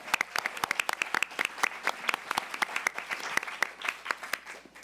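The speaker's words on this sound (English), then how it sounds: "I also wanted to give a big round of applause to our two moderators, Darzel and Hafsa, who did a wonderful job." A small audience applauds two moderators after a student panel, with distinct, fairly sparse hand claps that are close and crisp and that thin out toward the end.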